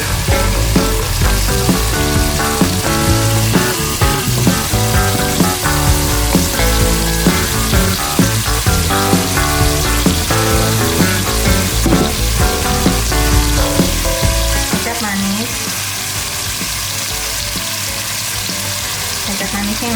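Chicken pieces frying with tomato in a pan for Indonesian soy-sauce chicken, a loud steady sizzle close up that continues throughout, with a slight drop in intensity near the end.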